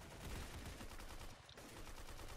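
Rapid, dense gunfire from a round of the Roblox shooter Arsenal, with shots packed into steady bursts that run almost without pause, loud and close throughout, broken only by a brief dip near the middle.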